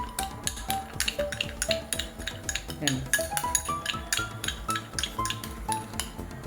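A spoon stirs night cream ingredients in a bowl, clinking and scraping rapidly and rhythmically against the sides, close and continuous with no talking over it.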